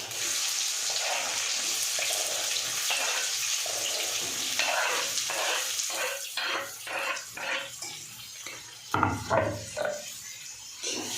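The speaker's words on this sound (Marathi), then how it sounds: "आता कांदा छान परतू द्यायचा।" Plenty of sliced onion with fennel seeds sizzles in hot oil for Akola-style vada pav, a continuous frying hiss broken by scraping and clinking strokes of a spatula in the pan, close and alone.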